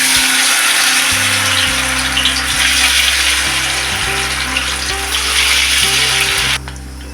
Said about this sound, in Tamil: கொஞ்சம் கொஞ்சமாக வாழைத்தண்டை பொறிச்சு வச்சிடலாம்